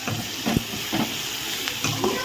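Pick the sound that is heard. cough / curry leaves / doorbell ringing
curry leaves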